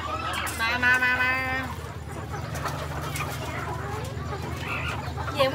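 Chickens cluck and squawk at a Vietnamese market, Tân Công Sính, with one loud, close run of clucks and more scattered ones afterward, while people talk over them throughout.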